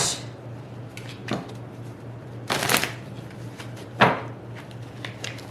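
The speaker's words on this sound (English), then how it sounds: "So let's pull some more cards and see if there is any hope" Tarot cards are shuffled and pulled by hand, heard as a few short riffling bursts and soft flicks separated by quiet gaps, close and unaccompanied.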